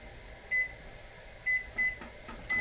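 A 1300-watt microwave oven hums steadily while short electronic beeps sound several times at irregular intervals, fairly faint.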